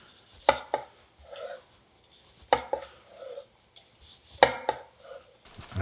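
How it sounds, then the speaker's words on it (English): A knife cuts through a block of tofu on a board, with three pairs of crisp blade taps on the surface and soft scraping between them. "Cut it in half and then slice it."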